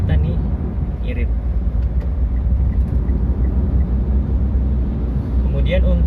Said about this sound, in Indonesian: jadi road noise-nya itu masuk banget